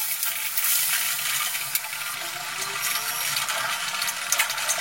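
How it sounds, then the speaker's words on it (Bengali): Chopped medium onion frying in hot oil for a Bengali rohu fish korma, a steady close bright sizzle and crackle with no talking. "এই তেলে আমি ভেজে নিচ্ছি পেঁয়াজ"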